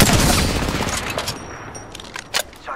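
Rapid automatic gunfire from the video game Apex Legends on PS4 Pro. A loud burst opens the clip and thins out into scattered shots and sharp clicks as it ends.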